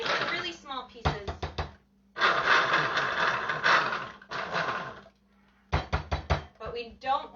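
A food processor pulses through apples in loud, close, whirring bursts of a second or two, separated by short clunks and gaps.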